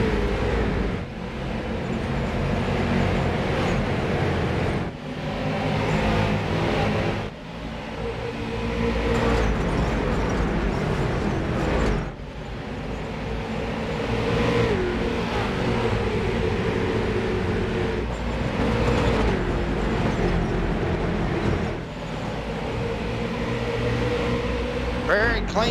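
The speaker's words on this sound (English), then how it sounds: "Let's get a lap here with the roar of the engines as we're green for the Bristol Motor Speedway." Street stock cars roaring around Bristol Motor Speedway in iRacing, a steady loud engine drone that swells and dips as the pack circulates, with commentary running over it.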